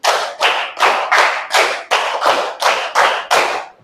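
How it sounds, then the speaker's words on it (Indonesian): Students in a classroom clap a rapid concentration pattern, two rounds of five group claps, ten evenly spaced sharp bursts that sound loud and near, with no voices over them. "Konsentrasi, tepuk 5 2 kali."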